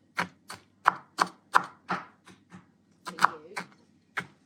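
Knife chopping and shaving ceremonial-grade cacao into small pieces, about a dozen sharp, close cuts coming at an uneven rhythm, with short pauses between them.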